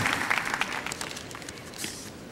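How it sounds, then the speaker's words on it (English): An Academy Awards audience applauds and cheers, a dense steady wash of clapping filling the whole stretch at moderate loudness, with no talk over it. "At the Academy Awards, they stand up and they cheer for him."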